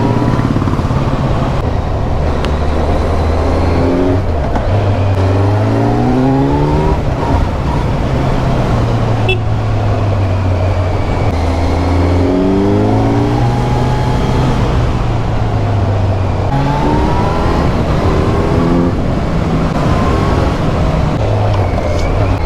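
Kawasaki Z900 superbike ridden through the hills of Uttarakhand: a loud, close engine note rising and falling with repeated revs and gear changes over steady wind noise, sustained throughout.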